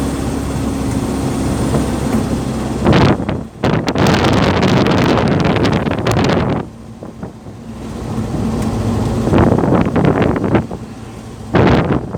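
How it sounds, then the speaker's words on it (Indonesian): Strong gusts of wind during the windy season in Sabang roar and buffet the microphone in loud, broad bursts, easing briefly between blasts on a quiet road. "di Sabang lagi musim angin nih"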